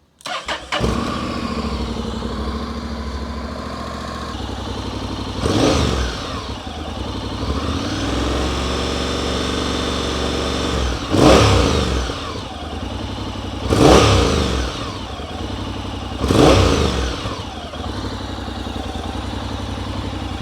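A Honda NC750X motorcycle on its standard exhaust starts and settles into a rumbling idle, then gets three or four sharp throttle blips that rise and fall quickly.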